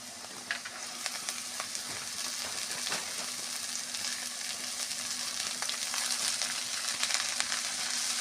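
Water spinach tossed into a pan of frying potatoes gives a soft, continuous sizzle with scattered crackles and light stirring clicks, fairly quiet and steady throughout with no voices.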